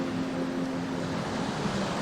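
Ocean waves and wind roar in a dense, constant wash of noise, loud and close, with no pauses or distinct breaks.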